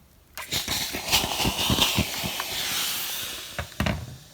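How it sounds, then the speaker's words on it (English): A steam iron hissing over a crocheted doily pinned to cardboard, with a steady breathy hiss broken by a few soft clunks and thumps, close by with no talking. "now I'm going to steam it with an iron"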